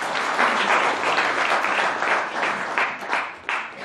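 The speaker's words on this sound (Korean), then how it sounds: "회원분들 박수 쳐주시기를 부탁드립니다." Forum members applaud together in a conference hall, a steady, dense wash of clapping that holds for about four seconds at moderate distance, with no speech over it.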